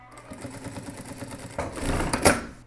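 A sewing machine stitches a jeans seam in uneven bursts, quiet at first and then louder and faster toward the end, with clicking of the mechanism close by.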